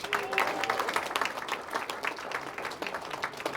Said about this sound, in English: Those guys, a round of applause.